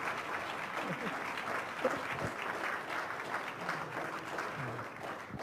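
Moderate applause from the audience at a learning technology innovation summit, a continuous clapping patter with some voices and cheers faintly mixed underneath.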